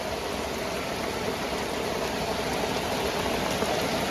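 Heavy rain pours steadily over a residential neighborhood, a dense, loud, unbroken hiss of water falling on streets and surfaces close by, with no voices over it.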